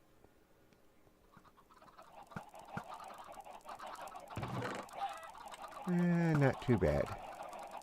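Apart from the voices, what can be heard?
chickens clucking in the video game Minecraft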